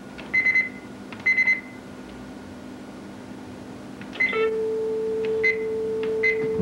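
A fax machine dials out with a series of short electronic beeps in clusters, followed by a steady tone and further beeps over a quiet background hum.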